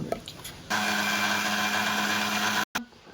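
An electric mixer grinder runs at a steady, loud whine for about two seconds, then cuts off abruptly, with a short clunk after it stops.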